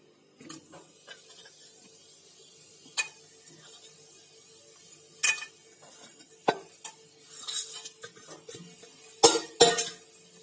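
Cinnamon, clove and fennel frying in hot ghee: a quiet sizzle under scattered clinks and scrapes of a spoon stirring in a metal pan, with a few sharper knocks.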